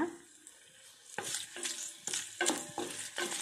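Garlic, dry chili and fenugreek fry in hot oil for a tempering, a crackling sizzle punctuated by several quick rhythmic stirring strokes against the pan, close and fairly loud.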